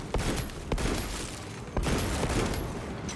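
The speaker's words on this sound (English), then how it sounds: "Sending frag grenade." A frag grenade explodes in Warhammer 40,000: Space Marine, with several heavy booming blasts and crackling battle noise spread across a few seconds, loud and close, with no talking.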